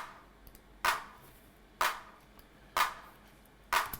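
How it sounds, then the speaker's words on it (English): Sharp clap hits from a small DR110 drum machine repeat evenly about once a second, four bursts in all, each a brief noisy crack over a quiet background. "The clap is also coming from that little drum machine,"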